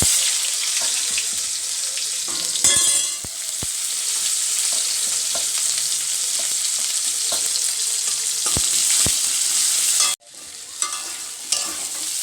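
Onion frying in oil with cumin and whole garam masala gives a steady, close sizzle throughout, broken by occasional stirring scrapes and clinks, with a brief pause near the end before the sizzling resumes.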